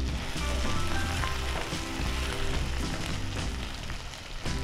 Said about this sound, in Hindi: आलू तैयार हो गए हैं, अब मैं इसमें डालूंगी घी